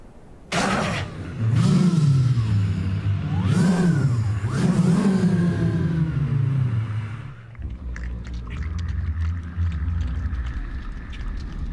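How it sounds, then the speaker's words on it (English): Honda car engine revs hard three times in rising and falling sweeps, loud and close, then settles into a lower steady running rumble. "This is what a Honda feels like."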